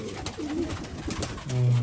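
Racing pigeons coo in short, throaty bursts at close range, with one deeper, sustained coo toward the end and no talking.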